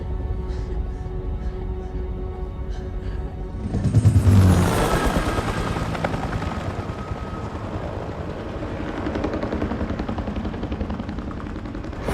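A rescue helicopter hovers for an airlift in a game scene, its steady rotor drone swelling into a loud rush midway and then holding as a continuous close roar.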